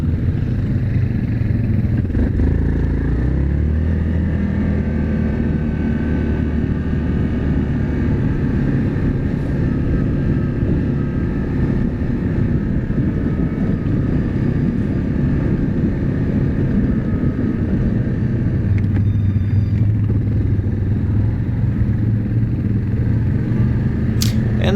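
A group of ATVs and UTVs drives through a forest on a trail run, their engines making a loud, continuous low drone and rumble that stays close for the whole stretch.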